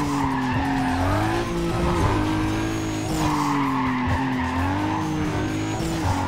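A Toyota Supra in Need for Speed Carbon, running the game's default tune, roars with a steady, loud engine drone across the whole stretch. Tire squeal and skidding come through as the engine note rises and dips.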